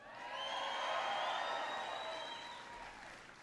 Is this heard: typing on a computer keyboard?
no